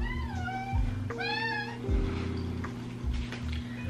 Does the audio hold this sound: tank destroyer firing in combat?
no